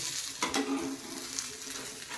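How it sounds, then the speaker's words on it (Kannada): Vegetable thalipattu cooks in a pan over a slow flame, giving a steady close sizzle and frying hiss with a few faint scrapes, with no talking. "ಒಂದು ಎರಡು ನಿಮಿಷ ಇದು ಬೇಯಲಿ ಸ್ಲೋ ಉರಿಯಲ್ಲಿ"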